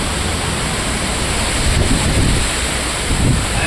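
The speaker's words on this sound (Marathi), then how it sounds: "इकडंच चालू सगळं वारं इकडंच" Strong wind roars steadily during a heavy rainstorm with thunder and lightning, a loud continuous broadband rush with slight swells, heard alone without talk.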